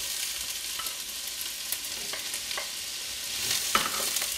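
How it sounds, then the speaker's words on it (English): Onions sizzle and crackle in hot oil for a chicken bhuna curry, with occasional soft scrapes of stirring, quiet and close. "we're just going to fry those off for 2 or 3 minutes before we do anything else"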